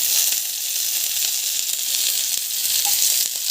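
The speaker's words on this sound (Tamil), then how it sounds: "ஆனியன் போட்டு நல்லா வந்து வதங்கட்டும்" Onions sautéing in a pan with chana dal, a loud close, continuous hissing sizzle with faint crackles running throughout, no voices.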